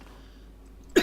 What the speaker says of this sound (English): Why am I coughing suddenly?